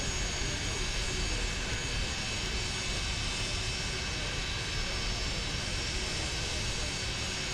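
MD-80 jet airliner engines run steadily while taxiing, a loud, continuous broadband roar with a faint whine heard from inside the aircraft, with no talk.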